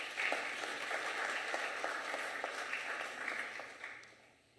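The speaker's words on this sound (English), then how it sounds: "Let us applaud those provinces that did that." An audience applauds at the opening of the National House of Traditional and Khoisan Leaders. Dense, steady clapping holds for several seconds, then fades toward the end.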